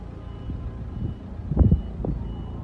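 A semi-truck backing up outside a hospital in İskenderun gives a few repeating reversing beeps over a low diesel engine rumble, fairly close and loud.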